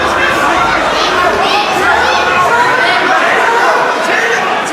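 A packed arena crowd at an MMA cage fight roars continuously, loud and dense, a broad wash of cheering and shouting voices with no breaks.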